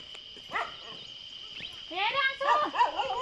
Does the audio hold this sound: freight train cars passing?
no